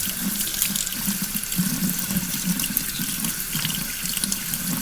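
Tap water runs steadily over a Harley Davidson air filter as cleaner and debris are rinsed off, a continuous close splashing stream with no voices.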